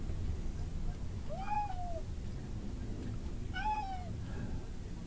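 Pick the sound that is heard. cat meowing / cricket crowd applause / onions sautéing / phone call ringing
cat meowing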